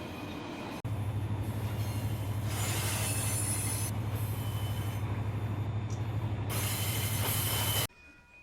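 A simulated CSX freight train of refrigerator cars rolls past in Run8 Train Simulator, a loud, continuous low rumble with rhythmic wheel noise and a faint wheel squeal before it cuts off abruptly near the end.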